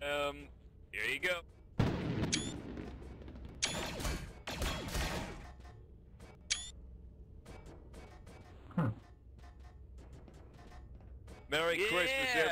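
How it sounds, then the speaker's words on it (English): Fireworks burst in a Christmas-themed Project Renegade video game session, a string of sharp cracks and whistling pops in quick clusters over steady background noise, with people talking in between. "Okay, I'm gonna do the fireworks"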